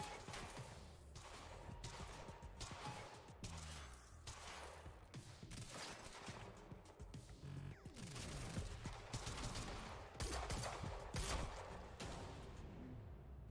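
Rifle gunfire in the video game Quantum Break, repeated sharp shots and bursts firing in irregular rapid clusters throughout, loud and close over game ambience.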